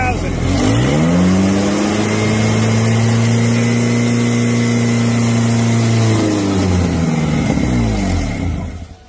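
A car engine starts, revs up, and holds a steady mid-pitched hum at around 2,000 rpm for several seconds before dropping back, loud and close, with no talk over it.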